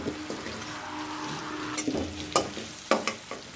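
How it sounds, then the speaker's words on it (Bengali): Eggplant frying in oil with turmeric, a soft sizzle with a few scraping and knocking strokes as it is stirred in the pan, fairly quiet. "হলুদটা দিয়ে ভালো করে নাড়াচাড়া করে মিনিট 2 ভেজে নিয়ে তুলে নিলাম।"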